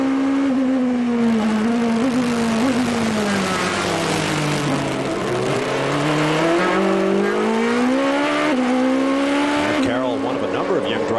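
GP2 race car engines at the 2005 Bahrain round scream loudly with a high, rising and falling whine as cars pass, sustained throughout under commentator talk.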